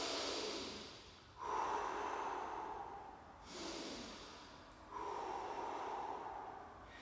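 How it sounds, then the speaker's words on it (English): Slow, deep breaths taken during a full-body-tension hold in an animal flow exercise, three long airy exhales and inhales close to the microphone and fairly quiet, with no talking. "Just breathe here."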